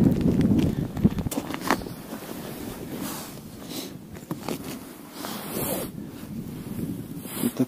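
Strong wind blowing across a frozen lake during January ice fishing for pike: a continuous, loud, gusting rumble and buffeting against the microphone, with no voices.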